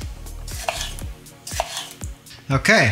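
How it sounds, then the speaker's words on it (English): Steak knife from a Ninja Foodi NeverDull set slicing through tomatoes on a board, with repeated close cutting strokes and knocks against the surface, a few seconds long. "so everything cuts through tomatoes"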